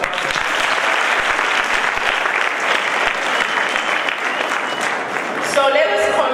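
An audience at a college event on gender-based violence applauds in a dense, steady round, and a voice breaks in over the tail end.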